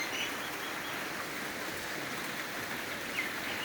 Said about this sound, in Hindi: तेज़ बारिश हो रहा है माशाल्लाह